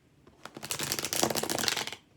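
Tarot cards are riffled in one quick shuffle of fluttering, crisp slaps that lasts about one and a half seconds, close and fairly loud, with no talking.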